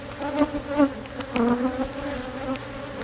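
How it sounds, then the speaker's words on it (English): Honey bees hum around a beehive in a busy colony, several close wavering buzzes rising and falling over a continuous low drone. "Happy little bee colony here."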